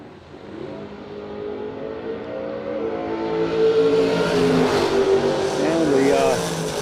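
Drag racing cars at a no-delay nationals event accelerating down the racetrack, with a rising engine roar that builds and holds loud toward the end under a commentator's voice.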